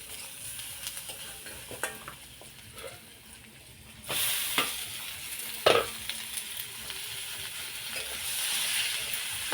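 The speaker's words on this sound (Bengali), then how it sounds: "অল্প করে রসুন আর পেঁয়াজ কাঁচা লঙ্কা দিয়ে একটু ভেজে নিয়ে শাকটাকে দিয়ে দেবো।" Garlic, onion and green chilli fry in hot oil with a constant close sizzle and scattered stirring clatters, then the sizzle surges louder as greens are added to the pan.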